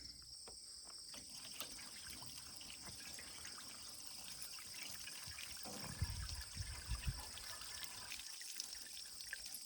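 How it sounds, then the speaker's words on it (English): Water trickles and pours steadily and quietly into a Ford 8N tractor's radiator, growing heavier and gurgling near the end, with faint insect chirps in the background. "So let's fill the rad full of water."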